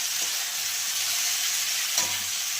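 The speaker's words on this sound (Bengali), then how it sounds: "এবার এটাকে আরেকটু কড়াইতে নাড়া দিয়ে নেব" Steady frying sizzle and steam hiss from a kadai of turmeric-spiced fish curry base, with a couple of soft scraping stirs breaking through the continuous close hiss.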